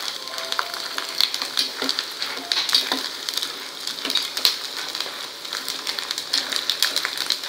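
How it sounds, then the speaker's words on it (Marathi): Sabudana pearls frying in hot oil for sabudana chivda, a continuous bright crackling sizzle with dense tiny pops and occasional clinks of stirring, close and moderately loud, no speech. "हे बघा मस्त साबुदाणे तयार झालेत आपले तळून."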